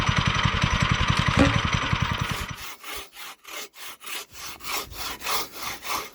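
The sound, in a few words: hand sawing wood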